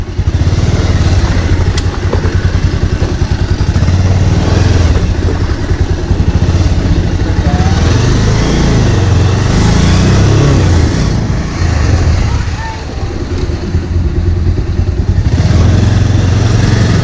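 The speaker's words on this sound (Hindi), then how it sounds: "मैं टाइगर नहीं चला रहा हूँ, पल्सर चला रहा हूँ, ये इतना ऑफ रोड चलेगा नहीं यार" A Pulsar motorcycle rides off-road over rough ground, its engine droning loud and steady for the whole stretch with rattles and clatter and no talk.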